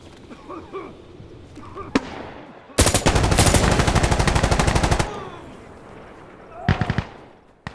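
Gunfire in the video game Insurgency: Sandstorm, a loud close burst of rapid automatic fire lasting about two seconds, with single sharp shots before and a short second burst after, while a player talks.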